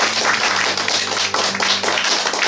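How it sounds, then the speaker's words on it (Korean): An audience at a live performance in a riverside cafe in Gongju claps together, a dense, continuous ripple of handclaps close and fairly loud over a faint steady hum, with no talking. "다 박수 다시 한번 쳐볼게요"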